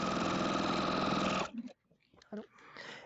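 A sewing machine stitching through a quilt with a steady, loud mechanical hum and rapid needle rhythm, close by, then stopping abruptly, after which a person speaks briefly.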